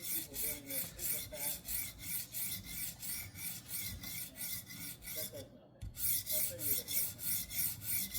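A knife being sharpened on a skinny coarse stone in a TSPROF Alpha N guided sharpener, a quiet rhythmic rasping of steady back-and-forth strokes, about two per second, with a brief pause near the end.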